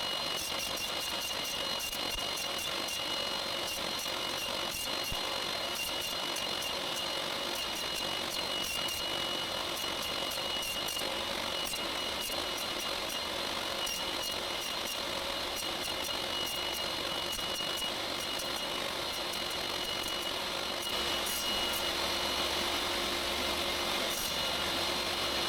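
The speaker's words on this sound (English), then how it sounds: "It's got to be the table saw anyway." A table saw cuts wood with a steady, gritty noise running continuously throughout, loud and close, with a bright whine and rasping texture and no voices.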